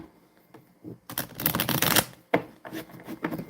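A deck of cards shuffled by hand, quick papery riffles and bursts of flapping close up, with a brief louder rush in the middle.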